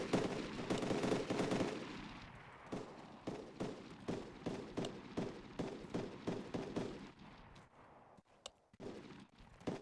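Gunfire in the military shooter game Arma 3: a steady series of sharp, evenly spaced shots rings out for several seconds, with echoing bursts at first and a trailing, quieter ending.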